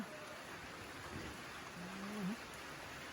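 Steady, soft hiss of rain falling, with a faint tonal warble partway through; quiet and even from start to finish.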